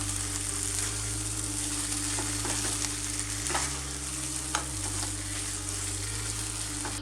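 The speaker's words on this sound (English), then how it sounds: "Continue cooking until the paneer becomes nice and dry." Paneer cooking in a pan over low-medium heat sizzles steadily while a spoon stirs and scrapes it now and then, over a constant low hum.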